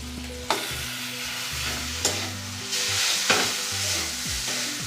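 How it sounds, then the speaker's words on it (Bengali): Chopped onion, garlic, tomato and green chili sizzle in a pan for Maggi masala noodles, the loud steady frying broken by a few sharp stirring scrapes at regular intervals. "ভালো করে ভাজা হয়ে গেছে, এরপর নুডলসটা দিয়ে দিব।"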